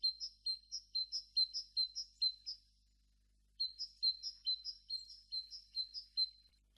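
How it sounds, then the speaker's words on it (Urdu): A small bird chirps in quick repeated bursts of high, bright notes, two runs of about six calls each separated by a short pause, clear and close with no other sound. "یہ ایک پرندے کی چہچہانے کی آواز تھی."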